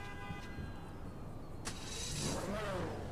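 A Progen PR4 race car in GTA Online starts up, a faint click followed by the engine catching and rising into a low idle hum, quiet and close.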